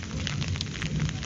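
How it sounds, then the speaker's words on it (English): Heavy rain pouring during the rainy season in India, a steady dense hiss with low rumble that stays loud and even throughout, with no voices. "And it's raining so bad,"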